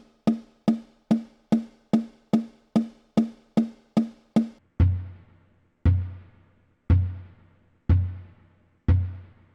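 A percussion stick strikes freely with a sharp, quick rhythm of about a dozen even hits, then five slower, deeper strikes that ring out and decay between blows, close and clear.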